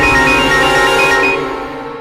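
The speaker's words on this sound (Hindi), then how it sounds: "ले ले, तुम्हारा होने वाला फोन कर रहे हैं।" A mobile phone rings with an incoming call, its electronic ringtone playing loud and steady with repeating tones for about two seconds in a Hindi action film scene, with no talking.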